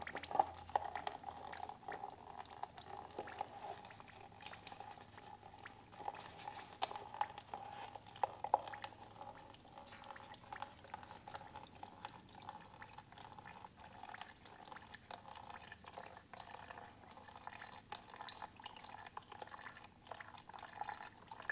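Diesel fuel draining and dripping from a Yanmar 1500 tractor under restoration, a faint, continuous trickle with scattered small drips, quiet and close with no talk.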